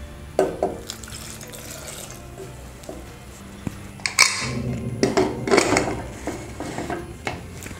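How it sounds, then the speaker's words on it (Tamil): Water splashing and trickling into a pressure cooker while a dry fish kuzhambu is being prepared, in uneven bursts with light metallic clinks from the pot nearby. "இன்னும் கூட கொஞ்சம் தண்ணி ஊற்றிக்கலாம்."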